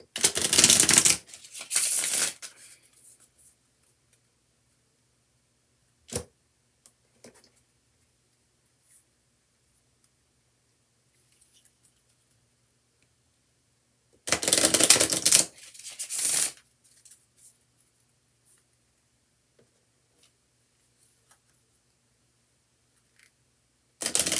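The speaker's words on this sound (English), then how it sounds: "I'm going to shuffle these a few times" Tarot cards being shuffled in two quick riffling bursts separated by a long quiet stretch, with a few soft taps and handling noises in between.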